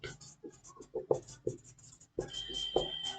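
Pen or chalk writing during a lecture on brick defects: a run of short scratchy strokes, then a steadier stretch of continuous writing, close and fairly quiet, with no talk over it.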